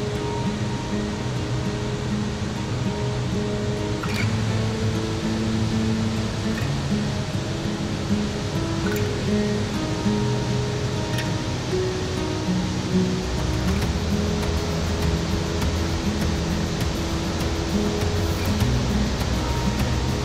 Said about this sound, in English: we walked out to see some pretty amazing waterfalls.